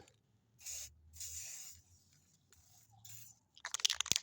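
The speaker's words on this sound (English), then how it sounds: "I'm going to have to spray paint them." Several short hissing bursts from a spray paint can painting screws, separated by quiet pauses, followed by a few sharp clicks near the end.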